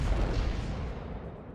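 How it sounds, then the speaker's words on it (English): A ship's gun fires a single round during a naval battle video game, giving one deep, booming blast that fades out over about a second and a half. "now we'll fire 1 round right underneath his front guns"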